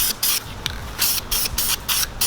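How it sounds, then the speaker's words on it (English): Spray paint base coat going onto a Miata's brake caliper bracket, heard as a rapid series of short, close hissing bursts from the can with brief pauses between them. "We're just gonna be starting with the base coat."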